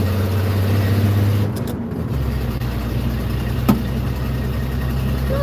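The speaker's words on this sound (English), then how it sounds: "I'm just driving back in my 76 F-250, driving home" A 1976 Ford F-250 pickup cruising along, its engine a steady loud drone heard from inside the cab, with a brief shift in pitch partway through.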